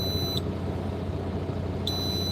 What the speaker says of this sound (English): that beeping is gonna happen for like 30 seconds, maybe a minute